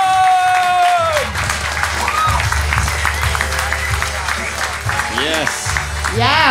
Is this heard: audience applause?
yes